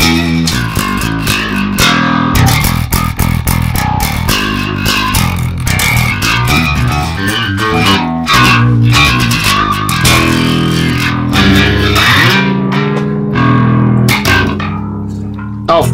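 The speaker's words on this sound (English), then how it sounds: "Is that the best bass sound you've ever heard in your life?" Bass guitar run through an effects rig in a studio setup, playing a dense, distorted riff with steady loud plucked notes and sustained tones throughout, no talking.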